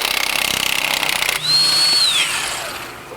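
Power tool with a T60 bit loosening the clutch bolt on a Polaris RZR Pro XP, a loud buzzing drive rattling steadily, then a rising whine as the bolt breaks free and spins down.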